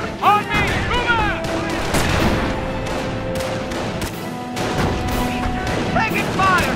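Rifle and machine-gun fire crackles through a Company of Heroes battle in Carentan, with repeated sharp shots and bursts over a constant war din, and shouted soldier voice lines mixed in.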